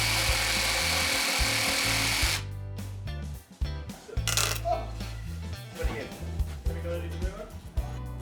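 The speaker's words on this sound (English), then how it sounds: "I'll just cut the rest through with the jigsaw." A jigsaw cutting through wood planks, a loud buzzing rasp that runs steadily and then stops, followed by scattered knocks, clatter and handling of tools and wood nearby.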